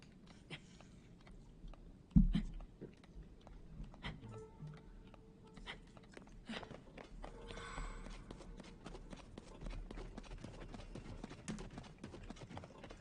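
Ghost horse hooves clip-clopping in the Zelda: Tears of the Kingdom video game, a steady run of soft, rapid hoof beats over game ambience, with one sharp thud early on.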